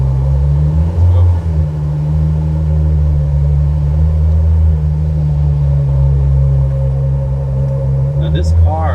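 A Ferrari F12 TDF pulls away in first gear. Its engine gives a loud, close, deep rumble that holds fairly steady throughout, and a voice is briefly heard over it.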